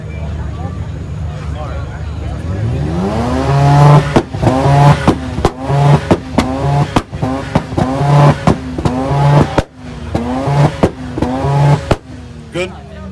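A Mazda RX-7 at a car meet exhaust competition revs hard in repeated sharp bursts, its loud exhaust climbing and dropping in quick throttle blips with brief gaps between them, close and dominant.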